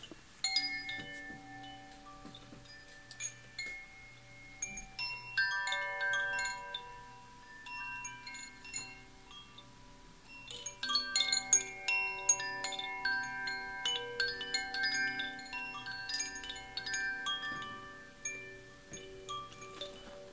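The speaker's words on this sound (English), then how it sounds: "let's listen to the fire bell." A tarot reading's fire bell: bright bell tones ring out in overlapping clusters, struck repeatedly with long sustaining harmonics, a shimmering resonant chime that swells again midway.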